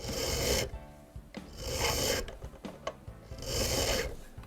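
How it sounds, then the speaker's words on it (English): A hand file rasps steadily against a small brass part of an 1837 French Japy Frères mantle clock, held in a rotating pin vise, in close, repeated strokes with short pauses between passes. "File carefully while rotating the pin vise."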